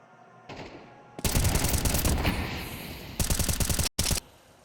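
Shotgun blasts and rapid gunfire in a Counter-Strike match on the Ancient map: loud, close, sustained volleys with rhythmic bursts, a sudden brief cut, then one more burst, with no speech.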